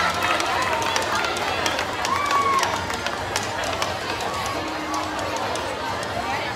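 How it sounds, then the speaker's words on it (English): Applause at a girls' under-12 dance competition, a crowd clapping for prelim dancers, a steady patter of hands across the room under a talking announcer. "let's have a nice round of applause for all of our prelim dancers"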